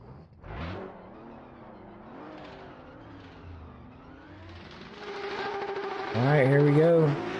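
Drift cars, including a Nissan S14 and an RTR, launch at a street drift competition at Road Atlanta, engines droning and then revving hard as the cars pull away, loud and close, with a commentator talking over it.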